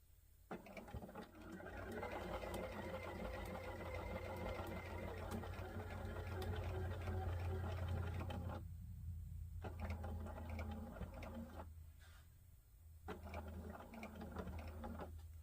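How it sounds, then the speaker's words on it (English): A sewing machine stitches the first row of an Old Glory wallhanging quilt made from a Jolly Bar. It gives a steady, close mechanical whirr that runs long, pauses twice, then resumes in shorter bursts. "Okay, so I'm sewing this first row, and I'm taking my time on it."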